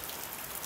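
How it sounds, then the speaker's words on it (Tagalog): Rain falls steadily in a brief, dense hiss of drops hitting surfaces, even and unbroken, with no voices. "Umuulan kasi."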